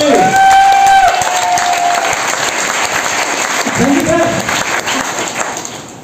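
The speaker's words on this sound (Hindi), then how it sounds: "तो कैसी तालियां बजाएंगे मिस्टर नगेंद्र भाटी" A training-event audience in Faridabad breaks into loud, sustained applause with some cheering, a dense roar of clapping that holds steady before easing off, with a voice rising briefly over it.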